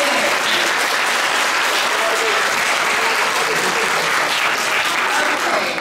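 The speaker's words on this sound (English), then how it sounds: "A round of applause for Real Madrid's finest." A crowd at a children's graduation performance claps enthusiastically, a loud, continuous, evenly textured burst of applause from many hands that stays strong throughout, with some voices mixed faintly in.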